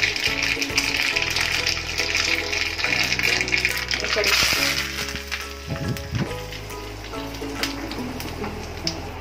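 Mustard seeds and asafoetida tempering sizzle in hot oil for a gram flour and rice dhokla, a steady close hiss and crackle running under music throughout.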